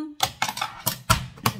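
A series of sharp mechanical clacks, about five in quick irregular succession, close and crisp, a punch board punching through paper for a gift box.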